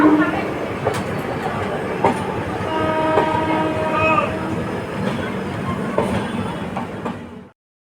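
A passenger train on the Howrah to Digha route, stopped at a red signal just outside Howrah, sounds its horn in several tones over a steady rumble of the carriage, with people talking nearby.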